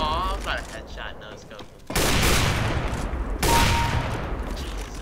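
Bursts of CS:GO gunfire in a loud, dense match, with sustained rapid shots and booms that swell around two seconds and again near three and a half seconds, while players talk over the action.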